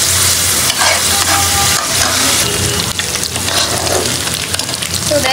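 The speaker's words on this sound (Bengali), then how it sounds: "তো দেখেন চিংড়ি মাছটা কিন্তু ভাজা ভাজা হয়ে গেছে" Shrimp fry in a hot pan while being stirred, giving a loud, steady, close sizzle with scraping stir sounds throughout and no talk.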